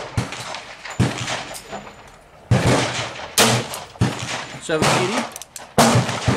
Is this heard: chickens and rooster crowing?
no